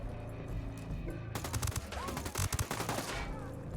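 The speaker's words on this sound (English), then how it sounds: "Bad guy heard the shot." Gunfire in Ghost Recon Wildlands, a video game, breaks out after a quiet stretch: a cluster of sharp, fairly distant shots and bursts crackles irregularly over low ambient rumble, with no clear talking.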